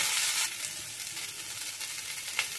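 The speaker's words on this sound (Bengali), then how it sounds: "এখন আমি লো টু মিডিয়াম ফ্লেমে ফুলকপিটাকে ভালো করে ভেজে নেব।" Turmeric-coated cauliflower fries in a karai over a low to medium flame, giving a steady hissing sizzle that stays even throughout, heard alone without any voices.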